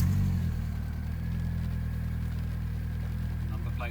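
An Alfa Romeo 147 with the 2.0 Twin Spark engine runs at a steady idle, a low, even rumble that stays constant from start to finish.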